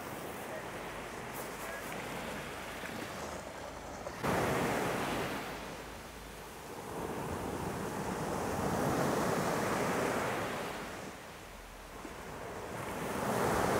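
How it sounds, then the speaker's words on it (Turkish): Steady rush of surf and gusting wind at Kaputaş beach on a windy morning, broadband and full, swelling and easing in slow waves with wind buffeting the microphone. "Sabah dalgaların sesiyle rüzgarlı bir güne uyanıyoruz."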